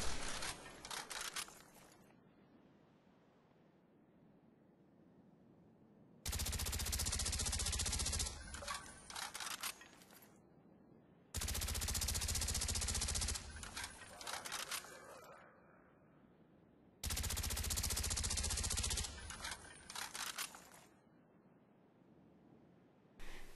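FAMAS rifle fire in Call of Duty: Black Ops comes as three long, loud sustained bursts of rapid automatic gunshots, separated by quieter stretches of game ambience.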